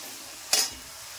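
Masala fries in a pan for chicken leg pieces, a soft continuous sizzle with one brief, sharp stir or scrape midway.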